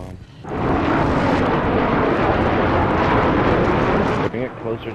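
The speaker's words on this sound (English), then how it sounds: "Oh, their jet's in the air." A roaring jet aircraft in the video game Battlefield 3 thunders loudly and steadily for several seconds, then cuts off abruptly, with a voice briefly audible at the end.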